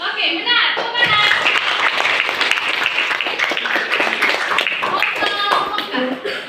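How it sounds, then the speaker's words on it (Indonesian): Students in a classroom clap together for a correct answer, a sustained round of crisp, close applause with voices talking and calling out over it. "Oke, benar. Tepuk tangan."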